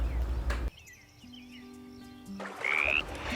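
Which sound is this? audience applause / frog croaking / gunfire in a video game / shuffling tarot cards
frog croaking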